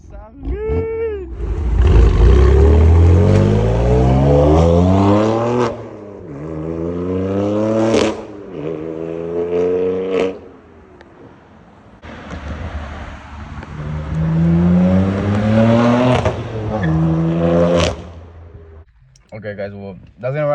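A BMW M4 F8X fitted with an AWE Tuning exhaust revs repeatedly nearby, long rising blasts dropping back to a rough idle, with crackles between pulls and a few brief pauses.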